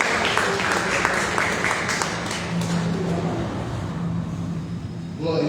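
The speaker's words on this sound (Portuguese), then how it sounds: "Palmas bem alegres para o Senhor." A church congregation claps together in a worship service, a dense and loud continuous wash of applause with a voice faintly over it.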